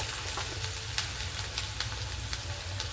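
Green chillies fry in hot oil for semolina upma, a dense steady sizzle and crackle with occasional stirring clicks, close and continuous, no voices.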